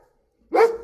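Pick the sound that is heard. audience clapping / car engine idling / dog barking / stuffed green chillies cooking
dog barking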